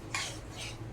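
A utensil scrapes and clinks briefly against a pot, two short stirring strokes close by.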